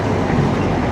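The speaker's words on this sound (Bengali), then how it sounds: "একটা ট্রেন আয়।" A train rolls past close by on a bridge crossing in West Bengal, a loud steady rumble and rattle of wagons filling the whole moment without speech.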